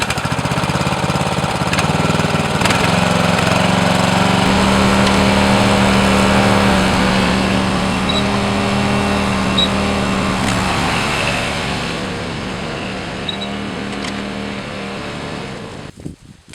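Engine of a Partner 11-90 E riding lawn mower running steadily at close range, a loud continuous drone with a low hum that keeps going for most of the stretch before cutting off near the end.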